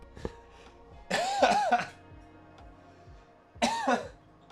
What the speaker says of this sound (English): Right in the middle of my laugh, I cough.